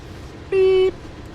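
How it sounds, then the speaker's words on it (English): A single electronic reversing beep sounds from a train backing into a yard in Train Sim World's Oakville Subdivision. The steady, clear tone lasts under half a second over quiet background rumble. "Beep, beep, beep. Our train is reversing."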